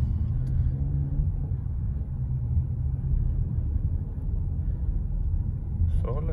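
Low, steady road rumble inside an SUV rolling slowly on adaptive cruise control, a continuous muffled engine and tyre drone with a faint click near the end.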